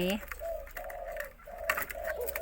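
Spotted dove cooing from a hanging cage, several low hollow coos in a rhythmic phrase, close but fairly quiet, with a faint brief voice at the start.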